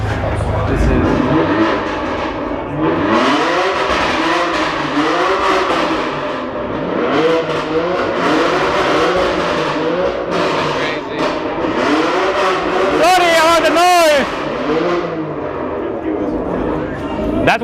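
A Lamborghini Aventador LP700-4 revving its exhaust at an open-shop car meet in Van Nuys, California, with repeated rising and falling engine sweeps and a sharp high burst near the end, under continuous crowd chatter and talk.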